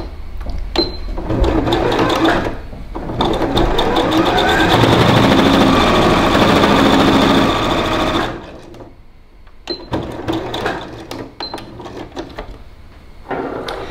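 Sewing machine stitching a fabric face mask, the motor running loud and steady for several seconds in the middle, with shorter start-stop bursts of stitching before and after.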